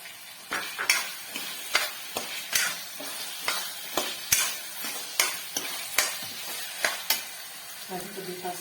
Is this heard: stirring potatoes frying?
yes